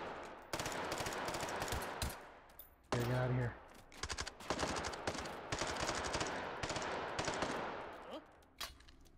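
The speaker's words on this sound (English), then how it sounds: "That guy's shooting me." Gunfire in the VR shooter game Hot Dogs, Horseshoes & Hand Grenades, with rapid automatic bursts and sharp single shots close by and a steady crackle of firing throughout.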